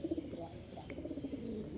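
A male Jalali pigeon coos softly and steadily, its low, rolling calls carrying throughout with no talking.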